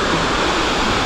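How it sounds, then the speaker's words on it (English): A roadside waterfall near a highway in Batroun, Lebanon, rushes as a steady, loud, broadband wash of falling water with no pauses. "Yeah, that's a pretty nice waterfall though."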